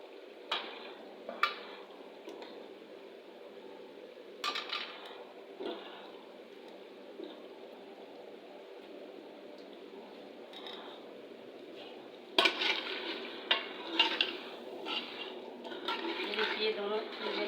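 Potatoes and chicken pieces frying together in masala in a pan, with a spatula stirring and scraping in intermittent clattering bursts over a soft, steady low sizzle.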